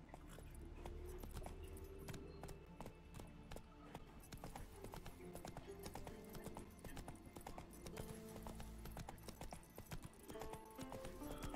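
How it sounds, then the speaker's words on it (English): Horse hooves clip-clopping in The Witcher 3: Wild Hunt on PS5, a steady, rhythmic trot of hoof clops alongside jangling tack, with an occasional whinny, continuous and fairly quiet. "Get in my horse."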